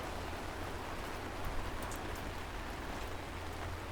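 Steady rain at sea hissing continuously with a low rumble underneath, even and unbroken throughout.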